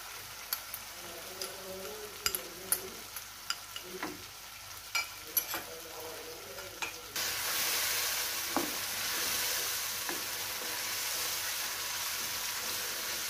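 Spice paste for Hyderabadi khati chicken going into a hot pan: light scraping and clinking of stirring comes first, then a sudden loud, steady sizzle takes over and holds to the end.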